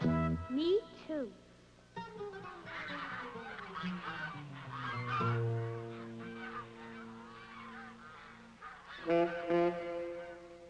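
Geese honk loudly at close range, repeated nasal calls rising and falling in overlapping bursts, with a flock chorus thickening near the start and again at the end.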